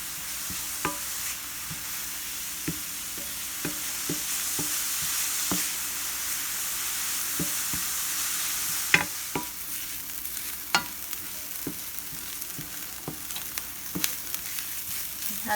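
Herbs sautéing in oil in a saute pan for a Persian celery stew, an even hissing sizzle throughout, punctuated by sharp taps and scrapes of a stirring spoon at irregular intervals.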